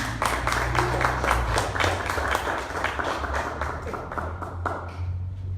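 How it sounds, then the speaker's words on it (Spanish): Worship congregation applauding the Lord during a church service, sustained hand clapping with distinct individual claps standing out, moderately close and fading slightly toward the end. "Denle un aplauso al Señor."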